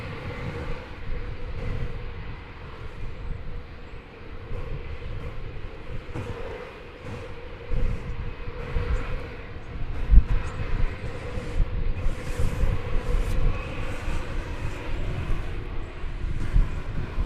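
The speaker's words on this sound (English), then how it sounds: "here comes that Delta Airbus A319, which will eventually be going to Salt Lake City" A Delta Airbus A319 airliner at DFW produces a low, rumbling engine drone with a faint tonal hum, swelling slightly louder partway through, with no voices.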